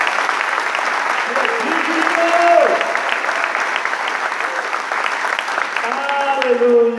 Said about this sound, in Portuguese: Dê um forte aplauso para Deus.